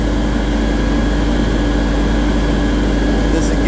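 A John Deere riding mower engine runs at a steady loud drone with a constant low hum throughout, its blades being engaged, and no clear change in the sound.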